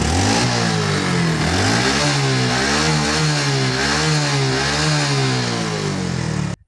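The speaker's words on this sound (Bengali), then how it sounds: "বাট যখন আমি রেভ করছি এটাকে দেখো" Hero Glamour motorcycle engine, smoking from a worn cylinder head, revved repeatedly in rising and falling surges, loud and close, dropping off abruptly at the end.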